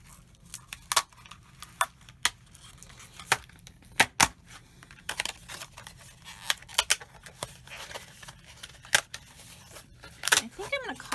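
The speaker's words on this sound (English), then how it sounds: "I'm going to cut out 2 of these." Scissors cutting purple paper pieces for a spinning pop-up card, a string of sharp snips and crisp clicks at irregular intervals, close and fairly quiet, with occasional soft handling noises between cuts.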